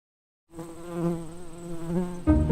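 Bees buzz after a brief silence, a close, steady drone that wavers in pitch and swells slightly near the end.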